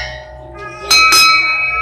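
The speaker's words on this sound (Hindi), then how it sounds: "अरे वाह, क्या घंटी बजी यार।" A metal temple bell is struck twice in quick succession at a shrine, ringing loud and close with a sustained bright shimmer, and voices talk faintly beneath it.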